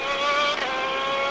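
A race car at Laguna Seca sliding through a corner during an American Le Mans Series race, its engine roaring loud and steady with sustained tire noise throughout.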